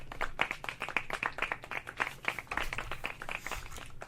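A few people clap in quick, uneven bursts, close and moderately quiet, the sharp claps repeating rapidly for about four seconds with no talking.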